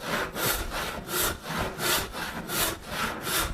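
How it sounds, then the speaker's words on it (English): A hand saw cuts through wood for a scarf joint in steady back-and-forth strokes, about seven rasping pushes in a regular rhythm, close and clear with no talking. "I'll just saw this out like I would a tenon."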